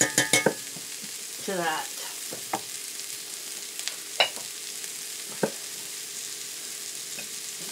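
Mushrooms frying in butter in a pan give a faint, steady sizzle, broken by a few sharp clinks and scrapes of stirring, with a brief spoken word near the start.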